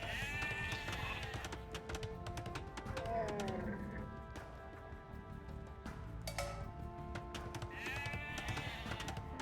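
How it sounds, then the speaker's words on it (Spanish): Sheep bleating in the strategy game Age of Empires II, several wavering bleats spread across the stretch over game ambience and soft clicks, fairly quiet overall. "Ovejas."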